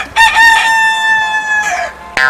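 A rooster crows loudly and close, one full cock-a-doodle-doo with a long drawn-out tone, then a second crow starts right at the end.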